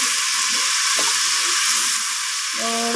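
Onion, ginger, tomato and green chillies frying in a pan, giving a steady close sizzle and hiss throughout, with faint stirring clicks and no talking.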